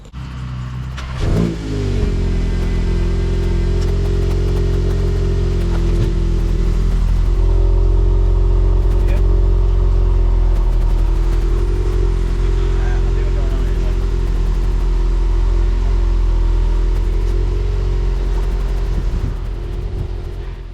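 A freshly ceramic-coated car idles and is driven slowly indoors, a steady loud low engine rumble with a brief rev near the start, holding for the full stretch.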